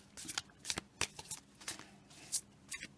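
A deck of oracle cards is shuffled by hand at close range, giving repeated quick riffling bursts and soft card slaps in an uneven rhythm, with no voices.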